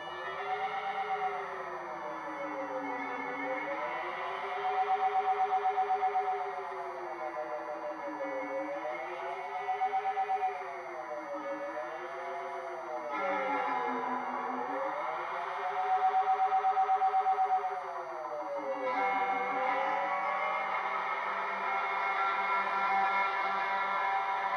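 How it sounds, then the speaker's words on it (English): A tape echo delay driven into self-oscillation, with runaway infinite repeats forming a sustained, warbling tone whose pitch swoops up and down in slow waves over a continuous hiss, loud and alone. "extreme settings of this feedback control can lead the tape machine into a state known as self-oscillation, where infinite repeats are generated"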